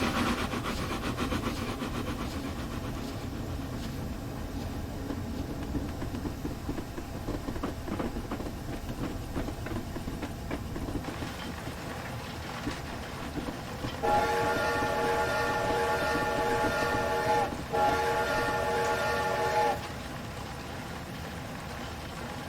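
Steam whistle of an A4 Pacific locomotive in a Train Simulator game, a loud steady chime blowing for several seconds with a brief break, over rumbling, clanking rail running noise.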